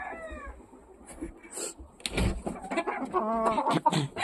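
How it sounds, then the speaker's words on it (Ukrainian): A hen with chicks indoors in a house, soft clucks and bird chirps near at hand, mixed with rustling and knocking, while people talk nearby. "У нас квочка з курчатами в хаті."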